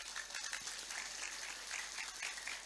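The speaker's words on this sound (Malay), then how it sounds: "Tepuk tangan untuk panitia mangken neka." Steady, faint applause from a gathered audience honoring an organizing committee at a religious talk, a soft continuous patter of many hands heard from a distance.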